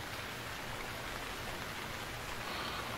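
Rain falls steadily in the survival video game Stranded Deep as a faint, even hiss of drops with no pauses or changes throughout.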